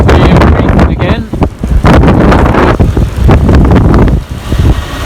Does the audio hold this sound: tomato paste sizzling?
no